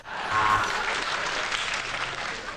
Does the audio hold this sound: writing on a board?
no